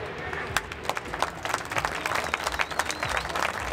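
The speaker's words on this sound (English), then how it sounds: "Please, keep that clapping going." An audience claps continuously at a British Superbikes race meeting at Cadwell Park, a dense, fairly distant patter of applause with a crowd murmur and a voice in the background.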